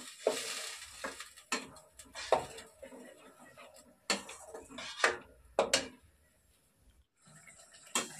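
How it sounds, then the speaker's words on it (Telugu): Masala with three chopped green chillies frying in a pan for aloo potol curry, with quiet sizzling and repeated sharp scrapes and clinks of a spoon stirring against the pot. "మసాలా పచ్చి వాసన పోయేంత వరకు బాగా ఫ్రై చేసుకుందాం"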